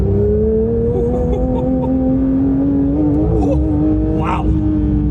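A 2022 Porsche 911 GT3 (992) on the move, its engine droning steadily and climbing slowly in pitch under acceleration, with a small dip and recovery partway through, heard from inside the car with no talking.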